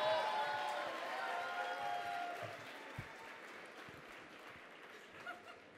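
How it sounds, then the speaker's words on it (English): Audience applause at a Year Up Bay Area graduation ceremony, steady, dense clapping from a room that fades gradually over several seconds, with a few louder claps near the end. "Give her a round of applause, please."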